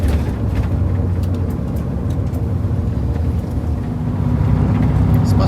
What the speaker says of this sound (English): This bus definitely has a lot of mechanical noise.